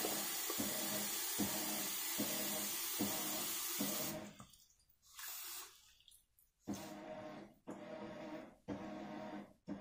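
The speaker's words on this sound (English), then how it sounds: "I just opened it up, rinse it out." Water runs from a tap into a handheld steam cleaner's small water cup, splashing and gurgling as it is rinsed, with a few pauses and bursts as the cup is tipped and refilled.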